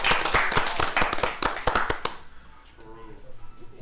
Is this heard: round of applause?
yes